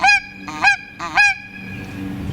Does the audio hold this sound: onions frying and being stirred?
no